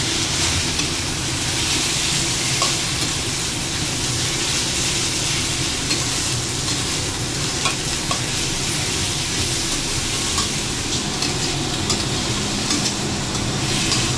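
Sliced beef fries in a pan with a dense, continuous sizzle and crackle, steady and close throughout, with the odd stirring scrape and no voices.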